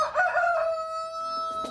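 Backyard hens cluck, and a rooster crows nearby with a drawn-out, sustained call that fades at the end. No voices accompany the birds.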